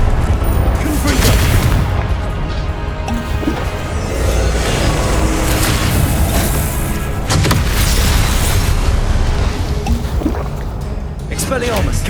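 Repeated Confringo spell blasts in the Hogwarts Legacy combat trial booming loudly and irregularly, layered with other spell effects, impacts and game noise for the whole stretch.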